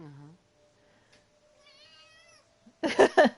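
A person's voice imitates a cat, giving two short drawn-out meows near the end after a brief bit of talk and a quiet, mostly silent stretch.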